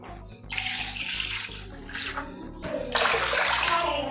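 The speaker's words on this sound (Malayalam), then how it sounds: "അതിന് മൂന്ന് കപ്പ് വെള്ളം ഒഴിക്കും" Water streams from a tap into a vessel of rava for vada batter, a rushing pour that starts, pauses and resumes in close bursts over a low background hum.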